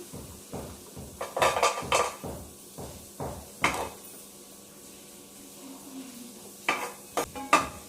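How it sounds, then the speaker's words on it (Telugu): Cashew nuts frying in a pan for carrot halwa: a spoon clatters and scrapes against the pan in irregular bursts over a faint sizzle, fairly quiet and close. "ముందుగా జీడిపప్పు వేయించుకోబోతున్నాం."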